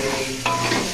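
Onions fry and sizzle steadily in a pan while being stirred, a continuous close hiss with a couple of brief louder stirring scrapes, no voices.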